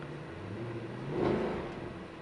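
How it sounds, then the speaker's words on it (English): A 2013 Mercedes-Benz C63 AMG engine starts and rumbles, with a steady low drone that swells briefly in a rev and then settles back to idle. "Now, let's start it up. Hear the engine."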